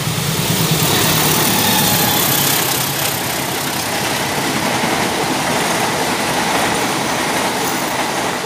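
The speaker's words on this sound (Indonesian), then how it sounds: "yang barusan melintas itu adalah kereta api" A parcel freight train rushing past near Maguwo Lama station by the airport, loud and close, with continuous wheel rumble and rail clatter that fades only slightly over the pass.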